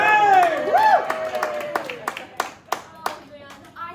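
A scattering of sharp handclaps from a small crowd, sparse and irregular, mixed with voices and a short cheer near the start.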